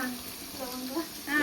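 Onions with cloves, cardamom and cinnamon fry in a pot for biryani, giving a soft, close sizzle over about a second and a half, with some faint voice sounds in the background.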